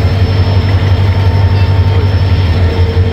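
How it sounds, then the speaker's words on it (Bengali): Loud, steady rumble of a train standing at a railway platform, with a deep droning hum and rail noise, continuous throughout without voices. "আর এই যে ট্রেন দাঁড়ায় আছে"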